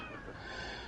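A pet cat meows close by at home during a Fallout 76 live stream, one steady drawn-out call with no talk over it.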